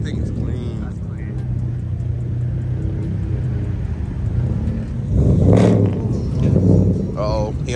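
A Corvette at a car meet in Albuquerque revs and spins its tires amid a crowd's rumble, with the engine surging louder near the end while people talk and shout throughout.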